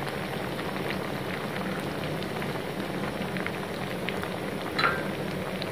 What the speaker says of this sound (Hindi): हल्का ब्राउन होने तक आप इसमें इसे फ्राई करेंगे